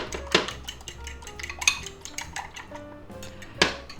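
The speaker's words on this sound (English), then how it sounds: "Beat that up a little." A utensil clinks and scrapes against a bowl as eggs are beaten with salt, pepper and garlic. Sharp taps and quick whisking strokes come at an irregular pace, close by and fairly loud.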